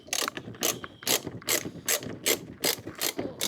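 A hand ratchet spins out screws holding interior trim on a Toyota C-HR, a run of about nine quick bursts of crisp pawl clicking, close and loud, with no talking.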